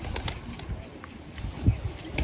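A female pigeon is being handled, with soft fluttering, rustling and light thumps of wings and feet close by, plus faint bird sounds, in a short, uneven sequence.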